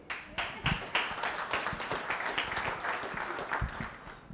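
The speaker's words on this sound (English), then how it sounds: "Sorry, I'm clapping as a voter." Scattered clapping from a candidate forum audience, a few distinct claps standing out over a light patter of hands, moderately quiet with possible murmuring beneath.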